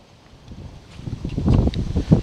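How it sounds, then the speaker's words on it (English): Gusty wind blowing outdoors around a sawmill, a low rumbling buffet on the microphone that starts soft and grows louder and rougher through the clip, with rustling in the background. "Now wind's picking up."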